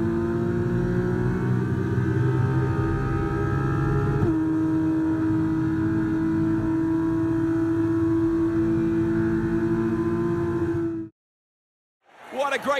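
Formula racing car engine in the F1 24 video game, a steady loud high-pitched drone with a gear shift partway through, then a sudden silence and a short return of engine noise.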